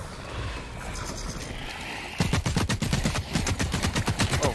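KOR-47 rifle in The Cycle: Frontier fires rapid automatic bursts of sharp close shots, a steady rattling stream over a couple of seconds after a quieter ambient lead-in.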